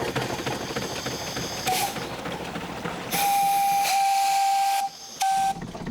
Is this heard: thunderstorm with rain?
no